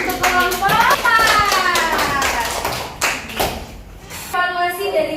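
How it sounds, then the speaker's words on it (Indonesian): Classroom applause for a presenting student group breaks out as quick, dense clapping from many hands, mixed with children's voices and loud chatter across the room. "Kita beri aplaus untuk kelompok"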